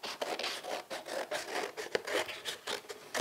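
A lid being cut around a marked line for an armoured EV charger cable, close rasping scissor-like strokes repeating in a steady rhythm, fairly quiet with no talking.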